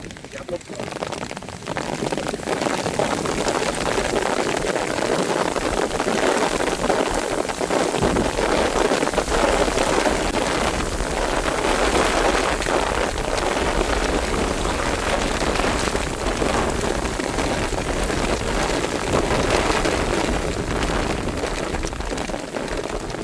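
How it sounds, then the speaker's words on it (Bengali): Heavy monsoon rain pours over forest beside a river during a storm, a dense, loud, unbroken roar of drops with gusting wind mixed in. "বন জঙ্গল কাঁপিয়ে এই বর্ষা শুরু হয়ে গেল, ভীষণ জোরে বর্ষা।"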